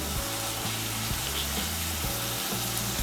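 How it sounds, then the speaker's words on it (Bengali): Ginger and garlic paste sizzles steadily in a pan of fried onions, a continuous close hiss with a low bubbling hum beneath, without pause and with no voices. "এর মধ্যে আমি 2 ছোট চামচ রসুন বাটা দিচ্ছি আর 2 ছোট চামচ আদা বাটা দিচ্ছি।"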